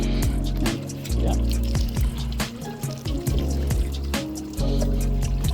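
Running water rinses spent brewing grain and the top screen of an all-grain brewing rig for a chocolate coffee stout, a steady splashing flow with clunks and knocks of equipment throughout, close and fairly loud.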